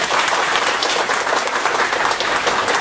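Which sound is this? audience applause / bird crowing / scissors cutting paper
audience applause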